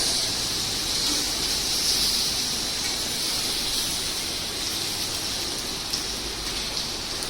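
Lyonnaise potatoes with sliced onion browning in a hot pan give off a steady, even sizzling hiss that holds unchanged from start to finish, with no voices.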